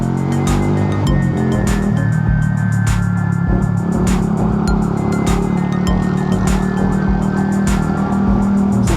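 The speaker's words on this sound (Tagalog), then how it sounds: "Saan ba yung ambulansya? Nasa likod ko ba o nasa ibabaw?" An ambulance siren wails steadily through busy city traffic near Quiapo, its rising and falling tone riding over a constant rumble of engines and road noise, fairly close and loud throughout.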